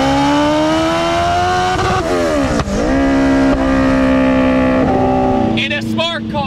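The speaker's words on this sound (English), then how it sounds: "So I'm actually driving it turned down, making almost 300 wheel horsepower." A turbocharged Suzuki Hayabusa motorcycle engine swapped into a Smart car, driven turned down at almost 300 wheel horsepower: a loud, close, steady drone whose pitch dips and climbs around gear changes, continuous throughout.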